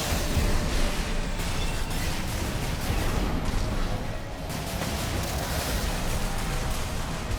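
Charged beam attack from the Gundam Dynames mech in Armored Core 6, a dense, loud roaring blast of broadband noise sustained for the whole stretch, dipping briefly near the middle before surging back.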